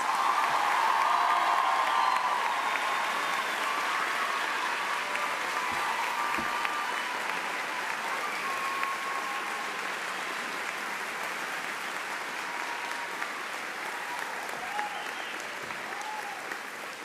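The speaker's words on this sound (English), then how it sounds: "So now please give a warm round of applause for all our valedictorians." A large commencement crowd gives sustained applause for the valedictorians, a long, even roar of clapping with faint cheers mixed in, slowly easing in loudness over about seventeen seconds.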